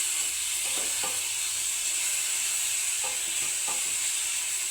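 Kohlrabi frying in ghee in a pan on the stove, a steady continuous sizzle with a few soft stirring scrapes, close and even throughout, with no voices.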